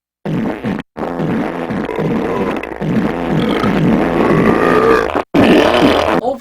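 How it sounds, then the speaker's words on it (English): Cartoonish burp and fart sounds from a Crash Bandicoot racing video game loading screen play loudly and close, repeating in quick pulsing bursts with shifting pitch and two brief silent gaps. "by pressing X and triangle, you can make burp and fart sounds"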